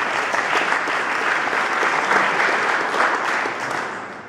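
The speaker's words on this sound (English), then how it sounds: "I think that's worth some applause." Audience applause after an introduction at a physics tournament presentation, a dense, even wash of many hands clapping that holds steady and then tapers slightly at the end, with no talking.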